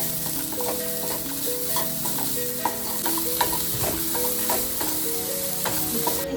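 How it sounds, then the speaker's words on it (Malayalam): Sugar and crushed cardamom are stirred in a pan for a Kannur-style stuffed banana snack, giving steady scraping strokes over a soft continuous sizzle, close and moderately loud, with no talk. "പഞ്ചസാര ഇടാം ഇതിനൊപ്പരം തന്നെ ഒരു ചെറിയൊരു ഫ്ലേവറിന് വേണ്ടിയിട്ട് രണ്ട് ഏലക്കായ ചതച്ചതും കൂടിയിട്ട് ഇതൊക്കെ ഇളക്കി കൊടുക്കാം"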